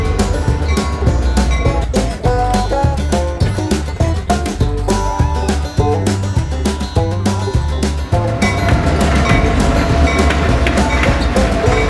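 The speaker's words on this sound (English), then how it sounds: "The last Lehigh Gorge Scenic Railway excursion of the day departs the station" A Lehigh Gorge Scenic Railway excursion train rolls out of the station with rhythmic clickety-clack of wheels over rail joints, loud and continuous, with a rumbling low drone throughout.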